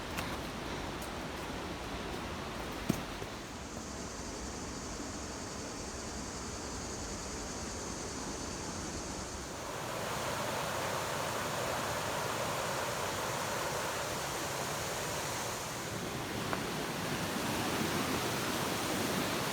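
The Linville River rushes through its rocky gorge as a steady, broadband roar of flowing water, constant and full throughout with a slight swell in loudness partway through and no voices.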